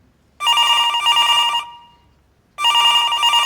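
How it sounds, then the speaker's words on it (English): A telephone in an NFL draft room rings loudly twice, each ring a sustained electronic trill lasting over a second with a pause between. "I see the phones are ringing."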